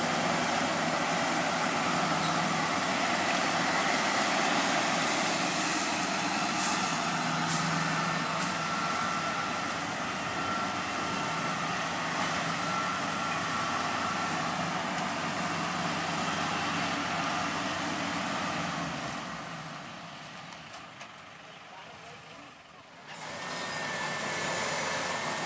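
Kubota and Sumo combine harvesters run together while harvesting a field in Ponorogo, giving a loud, continuous broadband mechanical drone that fades briefly toward the end before rising again.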